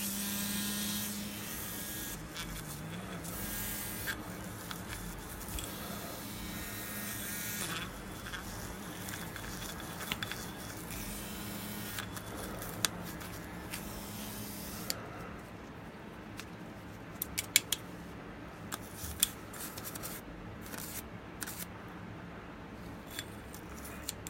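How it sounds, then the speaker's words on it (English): A faint, steady electric buzz of an old vibrating electric toothbrush scrubbing a Kawasaki KZ1000P motorcycle carburetor, with occasional light clicks and scraping, quiet and close. "Old toothbrush, hey, it comes in handy."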